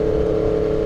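Motorcycle fitted with a loud GP-style exhaust pipe revving up close, a steady, dense engine drone held loud for under a second with no voices.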